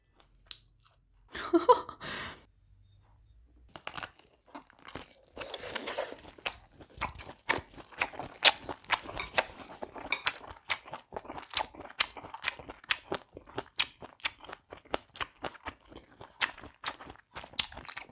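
Close, crisp chewing of a plump kielbasa sausage, with snapping bites of the casing followed by a long run of steady, rhythmic wet chews, loud and alone with no talk.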